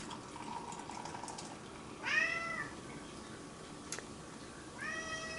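A cat named Catsby meows twice in the background of a kitchen, each cry short and rising then falling, heard faintly over a low steady hum.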